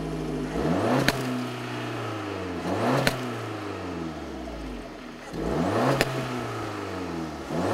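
Car engine, from a 2015 Audi S3 or BMW 228i comparison, revving up repeatedly with rising whine and snarl, three climbing pulls separated by shift drops, no voices.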